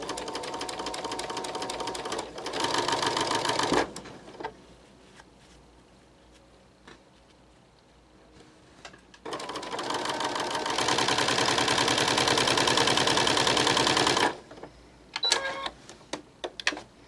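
A sewing machine stitches a garment seam with an edge joining foot, running in two bursts of rapid, steady mechanical whirring with quiet pauses between them, close and clear, ending in short clicks.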